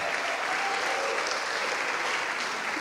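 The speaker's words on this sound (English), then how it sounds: "Let's give them a big round of applause as they head off." Audience at a church mission testimony event giving a round of applause as the speakers leave, a dense, even wash of clapping from many hands throughout.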